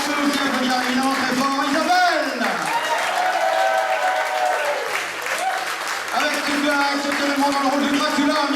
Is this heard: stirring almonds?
no